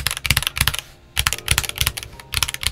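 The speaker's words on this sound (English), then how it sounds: "For those switches not being lubed, it doesn't sound that bad, to be honest." Quick bursts of clacky keystrokes on the unlubed switches of a Boyi TD21 21-key macropad, close and crisp, typed in short rhythmic runs separated by brief pauses, with no talking.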